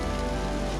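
Rain patters steadily on a small homemade rain shelter on a rugged coastline, a dense, even hiss of drops striking the cover up close with no speech.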